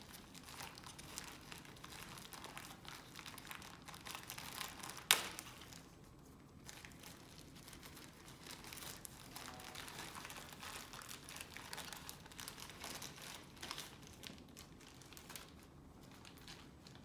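Plastic packaging around an IV piggyback medication bag is torn open, with faint, intermittent crinkling and rustling and one brief sharp snap near the start.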